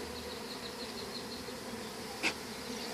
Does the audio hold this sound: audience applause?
no